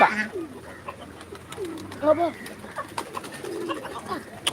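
Soft pigeon cooing, near and repeated in short phrases, mixed with other birds and some nearby voices.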